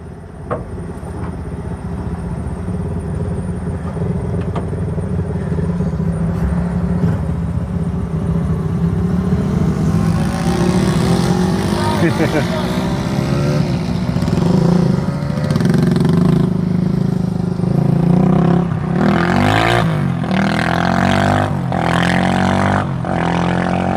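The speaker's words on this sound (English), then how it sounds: "dirt bike riders on the street" Dirt bikes drag racing on a street, their engines droning loud and steady before revving higher, heard from inside a nearby 1971 Chevrolet C10 with an inline six running.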